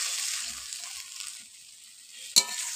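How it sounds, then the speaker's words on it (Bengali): Chopped banana blossom sizzles steadily in hot oil in a pan for a Bengali vegetarian curry while a spatula stirs it, ending with one sharp clack of the spatula against the pan. "খুন্তি দিয়ে নেড়ে আমি একটু মিশিয়ে নিলাম।"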